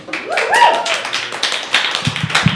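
Audience applause at a writers' open mic, a short burst of hand claps and taps lasting a couple of seconds with a brief vocal tone near the start.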